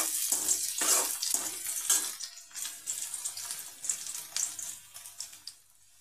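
Crushed garlic and chilli frying in a pan, a bright crackling sizzle with bursts that rise and fall, close by and moderately loud, fading near the end.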